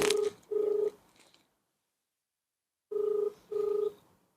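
Phone keypad tones as a number is dialed for a call: two clear steady beeps, a pause of silence, then two more beeps, loud and close with nothing else heard.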